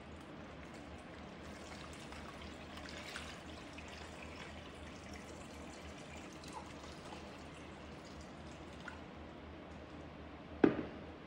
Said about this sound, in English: Fill the tub with water to a depth of about 5 centimeter.